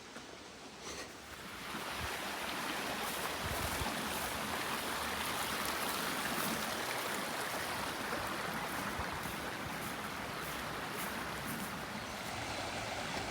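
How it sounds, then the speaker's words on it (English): River water flowing in Japan, a steady, loud, broadband rush that starts after a short quieter moment and then continues evenly and close by, with no voices. "Come on, Rudy, let's go down to the river."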